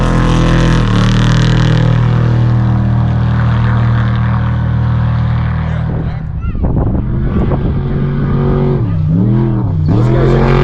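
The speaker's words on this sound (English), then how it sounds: "here comes another truck" A race truck in the Las Vegas to Reno desert race roars past at dusk, its engine drone holding steady before a loud swell and pitch sweep as it passes close by.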